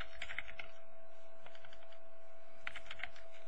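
Fingers type on a computer keyboard in short bursts of close, crisp key clicks separated by brief pauses, over a faint steady hum.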